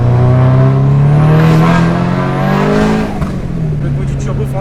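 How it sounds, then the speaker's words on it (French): A tuned Audi S3 with a forged engine, titanium exhaust line, stage 3+ tune and over 500 hp revs hard and loud up close. Its turbo engine note rises and falls across two pulls, then drops away into a rougher idle-like rumble. "Le bruit du turbo, franchement, c'est un plaisir pour les oreilles, ça."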